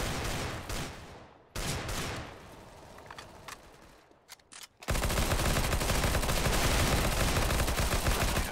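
Suppressive gunfire in CS:GO: bursts of rapid shots for the first few seconds, a brief lull, then a dense, loud, continuous stream of automatic fire to the end.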